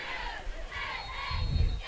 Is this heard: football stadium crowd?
yes